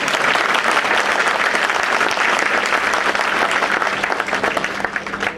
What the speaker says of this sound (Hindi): उनके पास इतनी आवाज कम क्यों आई तालियों में?